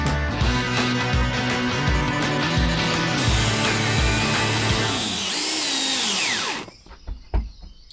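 A power drill drives screws into the plywood floor of a van under construction. Loud buzzing whirs are heard up close, and a winding-down whine fades near the end.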